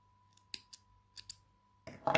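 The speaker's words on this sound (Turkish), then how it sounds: "Ben makasımı aldım. Yanındaki ilmeğin alttan ipini keserek açıyorum." Scissors snip through puffy yarn while finishing a crocheted scarf: a few quiet, close cuts, followed by a louder burst of handling noise at the end.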